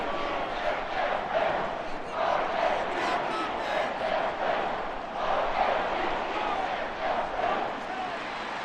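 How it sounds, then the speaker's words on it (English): Home crowd cheering and applauding in a Madden 24 football video game during the AFC Championship, a steady roaring stadium din with rolling swells throughout. "And the home crowd applauding."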